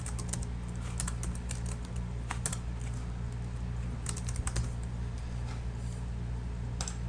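Quiet bursts of keystrokes on a computer keyboard as code is typed, scattered clicks in short clusters over a steady low hum.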